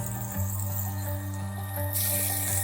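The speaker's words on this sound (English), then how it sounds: "Start deglazing this pan." A pan of burgers being deglazed in a shop gives a steady, close, watery hiss and sizzle that surges louder near the end, over a constant low hum.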